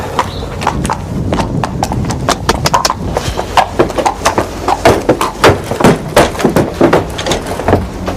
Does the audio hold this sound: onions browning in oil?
no